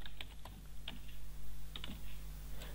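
Java code is typed on a computer keyboard in short, irregular bursts of faint, close key clicks over a low electrical hum.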